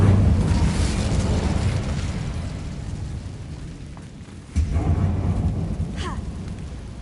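An Incendio fire spell cast in Hogwarts Legacy, a roaring burst of flame that fades over several seconds before a second loud whoosh flares up near the middle and keeps rumbling.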